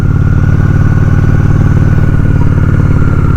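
A Honda Shadow 750 ACE motorcycle engine runs while riding, a loud, steady low-pitched rumble with a regular pulsing beat throughout.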